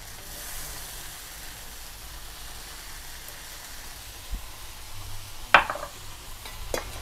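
Rice noodles stir-fried with garlic chives, bean sprouts and dried shrimp in a big wok give a faint, steady sizzle with soft stirring scrapes and a few louder clanks near the end, no talking.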